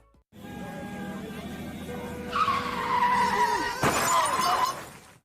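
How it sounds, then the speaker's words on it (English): A car skids with a long squeal of tires, then crashes with a sharp burst of shattering glass and breaking metal as the skid trails off, a dramatized sound effect in a Nigerian radio ad. "If your car just got bashed like that, would you be this person?"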